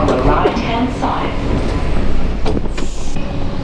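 A Hamburg U1 metro train stands at the Volksdorf terminus with a steady rumble and hiss of rail machinery, while voices carry over it.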